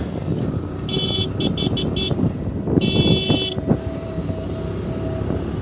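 A motorcycle rides along a village road in rural Bangladesh, its engine steadily droning up close while several sharp horn toots sound in bursts, then one longer honk follows.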